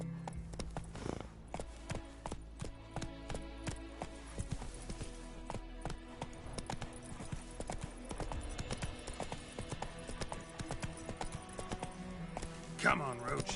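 Roach the horse running in The Witcher 3 Wild Hunt, a steady, rhythmic clip-clop of hooves over a dense game soundtrack and ambience, with a brief loud burst near the end.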